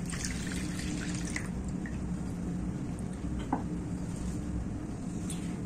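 Chilled milk poured into whipping cream powder in a bowl, a soft continuous liquid trickle with a few small drips over a steady background hum, close and quiet with no talk.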